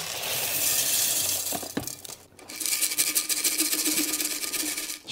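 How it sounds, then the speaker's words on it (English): Loose terrarium soil and gravel shaken inside a container to level it, giving a gritty rattling and hissing rustle that runs near continuously, with one short pause midway. "give that a shake to level it out"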